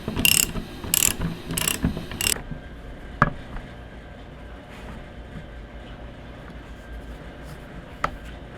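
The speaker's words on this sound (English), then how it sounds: "Just crank it, and then this will push the bushing into the housing." Ratchet being cranked to press a polyurethane bushing into its housing: four quick bursts of sharp clicking in the first two seconds, then quieter background with a couple of isolated metallic ticks.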